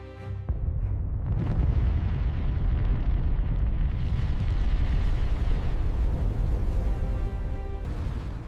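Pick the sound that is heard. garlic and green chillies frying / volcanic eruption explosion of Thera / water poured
volcanic eruption explosion of Thera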